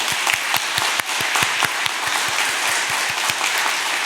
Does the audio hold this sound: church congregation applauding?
yes